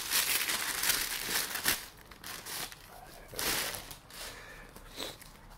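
Paper bag wrapping around a comic book order crinkles and rustles in bursts as it is handled and unpacked, close and fairly quiet, with no one talking.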